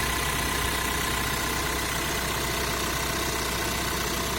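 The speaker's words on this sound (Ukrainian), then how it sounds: "А так працює моторчик. Так як для Volkswagen він працює ідеально." A 2015 Volkswagen Crafter van engine idling steadily at close range, a constant even hum with no speech.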